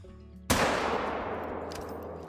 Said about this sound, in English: we'll drop him right there in his tracks with a heart shot